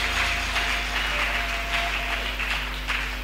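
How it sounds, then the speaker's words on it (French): A church congregation bursts into sustained applause and cheering, a dense steady wash of clapping hands filling the space for a few seconds without pause. "Nous acclamons très fort pour le roi des rois."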